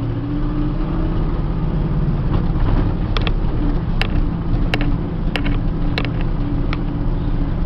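Ford F700 stake body truck with a five-speed manual gearbox and granny gear driving along, a loud steady engine drone with a few sharp mechanical clunks as gears are shifted.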